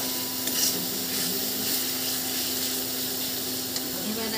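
Spice masala for a prawn malai curry fries in oil while being stirred, a steady close sizzle with soft scraping strokes and a faint constant hum underneath.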